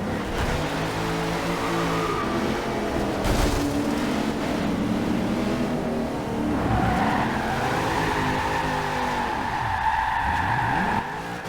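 A 1997 Land Rover Defender 90 in a racing video game drifting with sustained tire squeal and skidding over a revving engine, the pitch sweeping up and down as it slides, loud and close with no talk.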